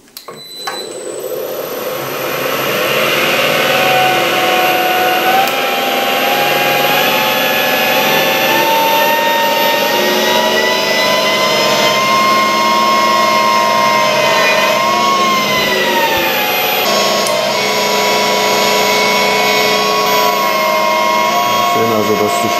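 An electric motor driving a generator spools up from standstill, a loud rising whine with layered tonal hum that climbs to a steady high pitch and holds, with small shifts in tone as speed settles.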